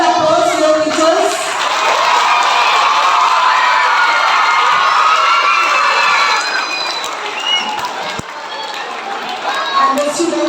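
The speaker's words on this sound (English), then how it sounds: "Give them a good applause, your teachers." A school assembly crowd of students bursts into loud cheering, shouting and clapping for their teachers, a boisterous sustained roar with children's whoops rising over it before briefly dipping and swelling again.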